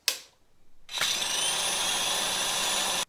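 An electric mixer beats creamed butter and sugar for cupcake batter, a brief whir first, then a sustained loud whine for about two seconds before it shuts off abruptly.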